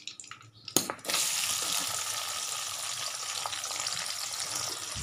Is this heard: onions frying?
yes